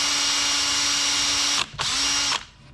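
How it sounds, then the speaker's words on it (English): A power drill boring holes in a bar stool: a steady high motor whine with a loaded hum, a brief stop and restart near the end, then wind-down. "This is the last chair, and the last hole I was drilling"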